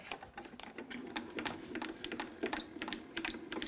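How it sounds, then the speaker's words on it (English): Grand Calibur embossing machine rolling a taped craft piece through, producing a faint, close mechanical whir with rapid clicking and small ticks in an uneven rhythm. "I'm going to just run it through the grand caliper."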